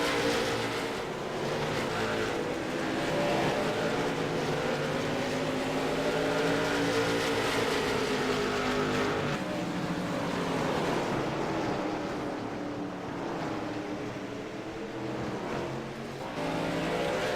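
Race cars lap during a charity race, a continuous loud roar of engines with rising and falling pitch as cars pass, steady and close with no clear talk.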